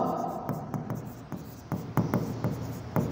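Chalk or marker strokes on a classroom board in a series of short, crisp taps and scratches, irregular in rhythm, heard fairly close and quiet.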